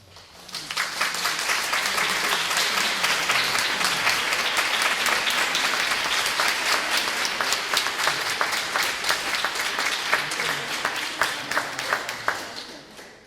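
An audience applauds at the close of a concert by a vocal quartet singing Orthodox chants, many hands clapping densely and steadily for several seconds before the ovation thins out at the end.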